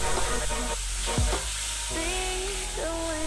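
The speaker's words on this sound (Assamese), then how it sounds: "তাৰপিছত একেলগে বিলাহী পেষ্টখিনি ইয়াত দি ভাজি থাকিম।" Tomato paste frying in a kadai with whole spices over a medium flame, a steady sizzle with stirring scrapes, and faint tonal whines drifting through in the background.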